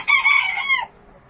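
A rooster crows once, close and loud, a short harsh call that cuts off abruptly into quiet.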